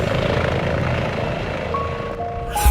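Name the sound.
helicopter climbing into clouds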